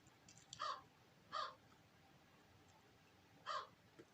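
A crow caws from a short distance, giving three separate harsh calls spaced irregularly over a few seconds against a quiet, faintly noisy outdoor background.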